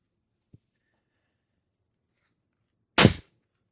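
A single sharp, loud crack of a Pistelle X-68 air rifle firing a .684 ART Hammer round, preceded by a faint tiny click, with silence around it.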